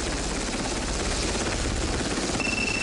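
A naval helicopter operating from a modern destroyer, its rotor and turbine drone a steady, dense roar that holds at even loudness throughout with no voices.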